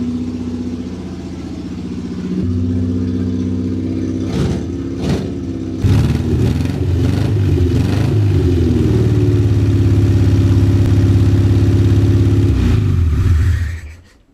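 An abandoned car with a fresh battery, new fuel and cleaned points cranks, catches and fires up, its engine rumbling loudly and revving in bursts before settling into a steady, strong run that cuts off abruptly at the end.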